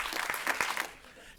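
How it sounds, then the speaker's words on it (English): At a public impact day gathering, an audience claps four quick times in unison, a brief crowd burst of sharp claps that fades within a second, with a voice partly over it. "Clap 4 times if you hear my voice."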